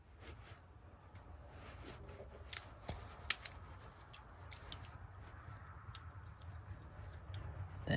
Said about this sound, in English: Got scissors.